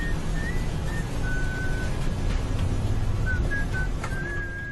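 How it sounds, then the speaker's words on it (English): A co-pilot whistles a thin, wavering tune in an aircraft cockpit, faint and intermittent over a constant broadband engine and cabin roar. "when we heard the co-pilot start whistling"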